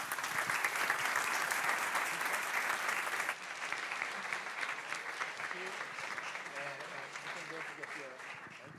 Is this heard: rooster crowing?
no